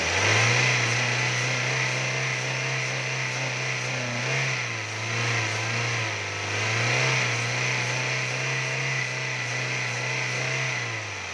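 A 2002 Toyota Corolla Altis with a 1.8-litre engine holds a steady, close idle hum that swells in a few gentle revs before settling again, with no talking.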